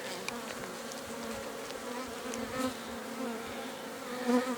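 Honey bees buzz around a hive nucleus in spring, a steady, close droning hum with brief louder swells as individual bees pass near.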